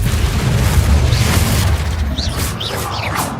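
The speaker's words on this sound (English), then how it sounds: "Confringo!" The Confringo spell from Hogwarts Legacy detonates as a deep, loud booming blast with heavy low rumble that fades into crackling debris, followed by a few brief chirping magical sounds.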